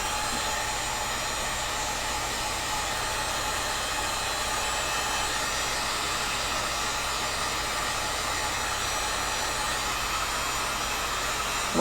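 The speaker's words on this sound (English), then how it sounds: "So let's get the heat gun and insert the grip." Heat gun blowing hot air to soften a PVC pipe grip for a Hobbit-style sword blade, a steady unbroken broadband whoosh lasting throughout, close and fairly loud with no talking.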